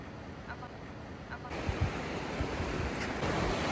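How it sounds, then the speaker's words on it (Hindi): The Bhagirathi river rippling and rushing at Devprayag, a steady hiss of moving water that grows louder midway, with occasional faint voices in the background. "ये भागीरथी जी आ रहे हैं भागते हुए, देखिए छल छल करती लहरें।"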